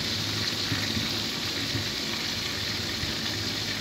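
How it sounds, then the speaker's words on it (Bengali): Roast chicken leg pieces rubbed with salt and lemon fry lightly in oil, producing a loud, steady, continuous sizzle with no pauses. "লবণ আর লেবু দিয়ে মাখিয়ে তারপরে তেলে ফ্রাই করে নিচ্ছি, হালকা একটু ভেজে নিচ্ছি।"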